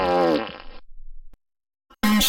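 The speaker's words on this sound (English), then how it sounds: "You don't fart on your boss." A comedic fart sound effect: a pitched, sputtering blast that trails off, followed by a short silence and another loud burst at the end.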